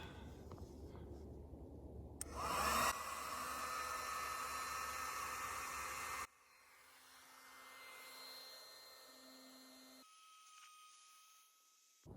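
An old mattress pump blows air through a rifle barrel and suppressor on a .222 Remington to cool it, giving a steady close whooshing hum that cuts off partway and leaves a quieter hiss.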